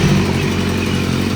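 A 2014 BMW S1000RR sport bike, a salvage machine with a small exhaust leak at the front right header, running in a test with a steady, close, loud engine drone and no talking.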